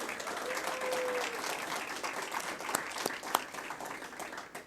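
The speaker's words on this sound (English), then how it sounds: "I'd like you to join me in welcoming her and giving her a huge round of applause." Audience applause at a university welcome event for a new athletics director, a steady wash of clapping filling the room at moderate level with a faint voice or two underneath.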